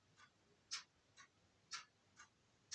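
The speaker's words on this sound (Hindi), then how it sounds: "इस घड़ी की आवाज में कितनी जोर से" Soft, regular ticking of a clock, evenly spaced clicks alternating slightly in strength, quiet in a still room.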